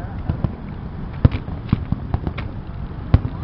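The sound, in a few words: fireworks exploding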